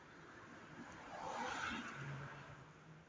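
A single car approaches along a quiet night street in Mazara del Vallo, Sicily. Its faint engine and tyre hiss swell gradually toward the middle, then fade back into the hushed background.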